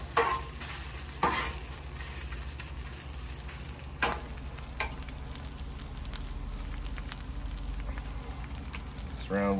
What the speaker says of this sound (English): let it start to caramelize a little bit on the pork